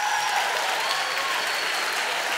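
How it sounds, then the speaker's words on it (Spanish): Steady audience applause fills a comedy show stage, a dense, continuous wash of clapping hands heard close and loud with no pauses. "¡Un aplauso, señor!"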